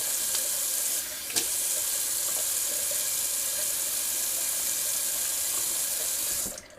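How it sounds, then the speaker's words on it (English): Running tap water pours steadily into a sink as alum is rinsed off a face, a continuous close hiss with a small splash partway through. The flow stops abruptly near the end. "I'm going to rinse it off. I rinse off alum."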